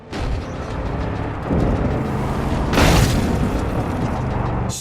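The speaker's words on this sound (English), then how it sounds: "Our hero hits the jump and wham! There's an explosion!" A loud, booming explosion in the Far Cry 5 video game, during a zombie story at a construction site, with a sustained rumbling roar and a sharp blast burst near the middle.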